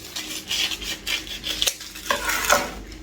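A few crisp snips of scissors cutting through parchment paper, close by, with soft rustling of the sheet between cuts.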